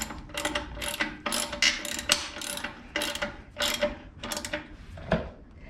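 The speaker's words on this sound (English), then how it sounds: "I'll use these ratchets, these cheap ratchets, until they fall apart." A cheap ratchet wrench clicks in repeated bursts of fast pawl ratcheting, close and clear, with short gaps between strokes while working on a homemade hitch for a Sears 10XL garden tractor.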